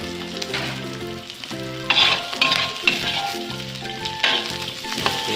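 Vegetables sizzle and are stirred in a hot frying pan over ginger and shallots, with steady frying crackle and scraping stirs, a few clinks of the utensil against the pan, and no talking.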